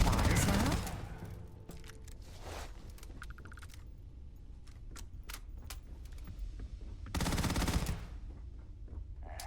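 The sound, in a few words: gunfire, from the video game Starfield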